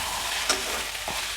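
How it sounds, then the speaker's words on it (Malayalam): Salted ivy gourd stir-fry sizzling steadily in a pan, loud and close, with three quick spoon stirs knocking against the metal and no speech. "നന്നായി ഒന്നുകൂടി ഒന്ന് ഇളക്കി കൊടുക്കണം കേട്ടോ"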